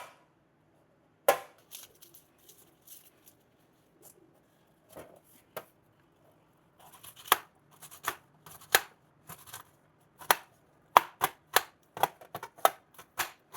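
A knife slices button mushrooms into small pieces, giving crisp, sharp cuts that start sparse and hesitant, then quicken into a brisk, uneven chopping rhythm, close and fairly quiet.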